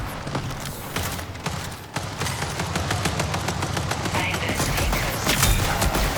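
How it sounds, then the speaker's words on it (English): Rapid gunfire and equipment clatter in a Marathon video game gunfight, loud and continuous, with dense overlapping shots echoing off the walls of cramped interiors. "In gunfights, the gunshots and equipment sounds reverberate off the walls."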